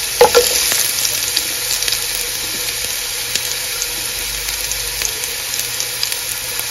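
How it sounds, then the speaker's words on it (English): Carrots sauté in a pan with a continuous, fairly loud sizzle, broken by a couple of sharp utensil knocks at the start and scattered light scrapes of stirring throughout. "I'm going to start with sauteing the carrots"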